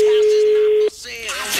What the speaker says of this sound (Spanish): Dale, Caro, te pido por favor atendé el teléfono